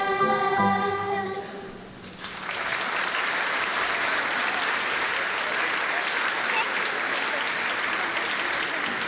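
Sustained audience applause at a school Grandparents and Special Friends Day performance, dense crowd clapping rising after a sung final note and holding steady and loud for several seconds.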